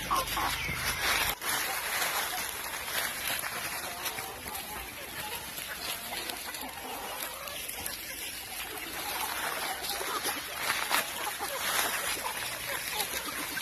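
Chickens cluck in a poultry farm shed, a busy, continuous flock heard close amid steady broadband barn noise for the whole stretch.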